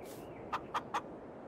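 Chickens in the farming video game Farm Simulator 22, three short clucks in an even row at close range over a steady low background hum, with no talking.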